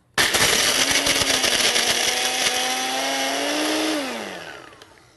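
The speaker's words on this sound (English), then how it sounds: "So let's try crushing some ice." A Cuisinart compact portable blender crushes ice with a loud, close motor whine and rattling ice for about four seconds, then spins down and fades.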